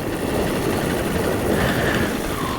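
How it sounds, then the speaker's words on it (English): An engine runs at a steady drone outdoors, loud and close, with wind noise over it and no pauses. "I'm going to kill my engine there."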